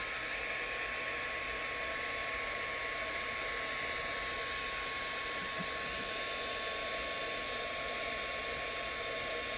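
A heat tool blows a steady, even hiss of hot air as it warms thick epoxy part A, running nonstop without a break.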